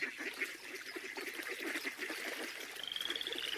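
Green, warty toads croak in short repeated calls near a pond on a summer morning, faint and steady, with a higher whistle-like tone toward the end.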